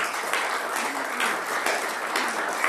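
A church congregation claps together in steady, moderately loud applause during a sermon, the sound even and unbroken from start to finish.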